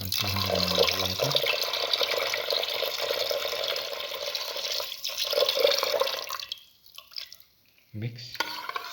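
About 200 ml of water is poured into a cinnamon, parsley and beef liver mixture in a steady splashing stream that thins out and stops, followed by a few faint drips.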